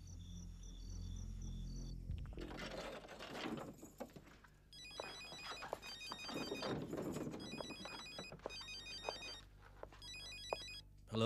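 Telephone ringing while a call is placed, repeated electronic ring bursts in a steady pattern, fairly faint, over rustling and handling noises in a quiet room.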